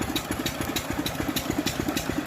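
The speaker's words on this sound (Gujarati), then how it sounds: "મશીન તો ચાલુ થઈ ગયું" A small farm water pump engine chugs close by in a field with a fast, even putter, running steadily without pause.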